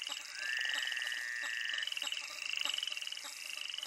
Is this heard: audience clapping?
no